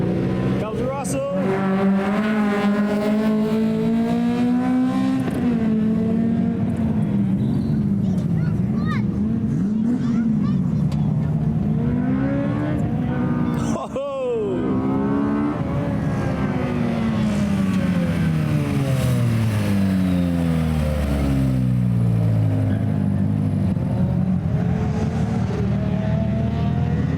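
A tarmac rally car at a stage's flying finish sweeps past with a loud engine note that climbs and then drops in pitch as it goes by, staying prominent for the whole stretch, with voices talking in the background.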